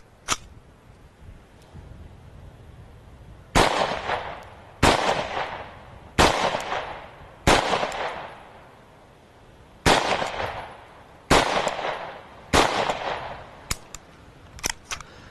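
Shots from a Sterling MK4 Colefire Magnum air pistol crack out one at a time, about ten sharp reports at uneven intervals of roughly a second or more, each loud and close with a short decay.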